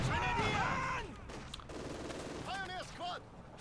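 Bursts of MG42 machine gun fire in Company of Heroes 2, a rattling fusillade in the opening second and again around 2.5 to 3.2 seconds, mixed with game sounds and other battle noise.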